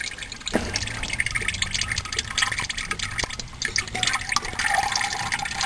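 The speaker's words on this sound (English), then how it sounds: "Okay, I got a steady stream going right into the bucket." Motor oil from a Chevy Blazer draining in a steady stream into a bucket, a continuous liquid splashing and trickling that keeps going, close and fairly loud.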